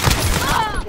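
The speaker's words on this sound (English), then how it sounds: "Fucking claymore, man." A claymore mine blast in a first-person shooter game, heard as a loud, dense burst of explosive noise over ongoing game sounds, with a faint voice in the background.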